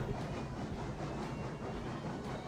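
Locomotive in the train game Railroads Online rumbling steadily as it speeds back up, a continuous near rail roar with faint clickety-clack and hiss, no talk.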